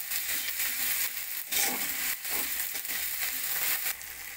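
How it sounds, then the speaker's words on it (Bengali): Ginger garlic paste sizzles and fries steadily in a hot pan, with brief scraping stirs breaking the continuous crackle. "আদা রসুন বাটাটা ভালো করে ভেজে নেবো"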